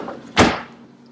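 A kitchen drawer in a new apartment kitchen shuts with a single firm, close knock, followed by a short fading rumble in a quiet room.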